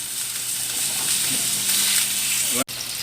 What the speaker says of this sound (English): we've got the chicken on. We're just going to grill it nice and brown